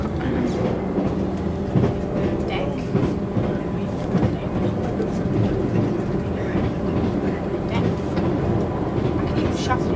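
Steady rumble and rhythmic clatter of a passenger train rolling along rails, heard from inside the carriage as continuous loud noise, with voices talking in the background.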